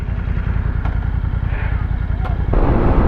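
Big motorcycles pass on a road in the Philippines with a loud, close, continuous engine rumble, brief clatter and a louder surge near the end.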